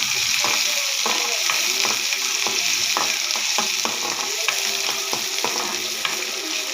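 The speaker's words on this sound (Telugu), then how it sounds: "ఆనియన్ తర్వాత కొంచెం ఎల్లిగడ్డ, పచ్చిమిర్చి, కరివేపాకు వేసిన తర్వాత" Garlic, green chili and curry leaves frying with onion in a pan, stirred briskly; a steady crackling sizzle punctuated by repeated spatula scrapes and taps in an irregular rhythm, close and alone.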